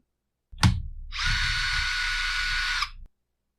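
Power tool whirring steadily for about two seconds after a sharp click while loosening the anti-vibration springs on a Husqvarna 254XP chainsaw, close and fairly loud, with silence before and after.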